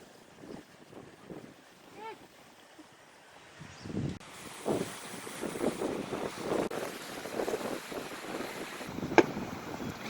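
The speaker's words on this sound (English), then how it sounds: "It's getting windy." Gusty wind buffets the microphone, rumbling and rising in strength, while people talk nearby over a faint watery wash.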